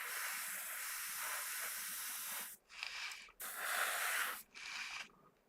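An airbrush sprays paint onto a 1/24 Aoshima Knight Rider model kit, a long steady hiss followed by two shorter bursts with brief gaps, close and fairly quiet.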